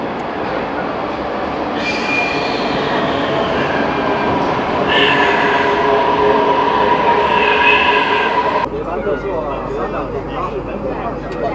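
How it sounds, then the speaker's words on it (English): A train pulls into a station in China, rumbling loudly with squealing wheels and tonal brake whine, then stops abruptly, with a voice speaking faintly in the background. "And here comes the train now."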